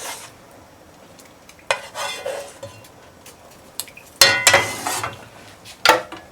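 Carrots going into a frying pan that already holds onions for a homemade European-style curry. Bursts of clattering and scraping from a spatula against the pan come over a light sizzle, with a couple of louder clanks.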